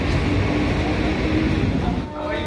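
Howrah–Puri Vande Bharat Express train at Howrah station before dawn, a steady loud rumble of the train and station noise filling the whole stretch, easing slightly near the end.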